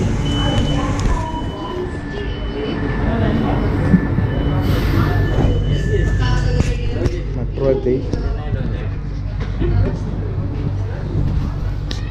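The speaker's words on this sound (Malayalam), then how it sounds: "ആദ്യമായിട്ട് ചെന്നൈ സെൻട്രൽ മെട്രോയിൽ കയറിയിരിക്കുകയാണ് ഫസ്റ്റ് യാത്ര" A Chennai metro train runs with a steady rumbling rail drone and faint wheel noise, with people talking over it throughout.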